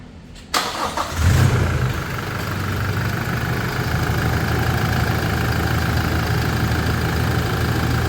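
A car fitted with an AFE Momentum GT cold air intake cranks over after a brief quiet moment, catches, and settles into a steady, loud idle whose rumble holds even to the end.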